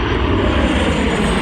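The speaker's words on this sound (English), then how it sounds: "That again is a United Boeing 737 MAX." A United Boeing 737 MAX airliner passes close by at Dulles airport, its jet engines roaring loud and steady throughout.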